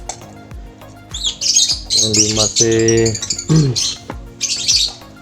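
Harsh, high-pitched squawks and chirps from African lovebirds come in bursts, with a person speaking briefly underneath.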